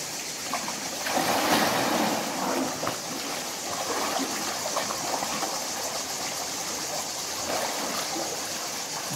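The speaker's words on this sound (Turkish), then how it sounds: "Geldik gizli şelaleye." A hidden waterfall pours in a constant, even rush of falling water, steady and fairly close, with no voices.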